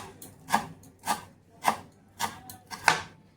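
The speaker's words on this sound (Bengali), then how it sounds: "তো ধনে পাতাটা কুচি করে নিচ্ছি।" A knife chops coriander leaves on a board in a home kitchen: six evenly spaced, crisp strokes, close and clear, with no talking.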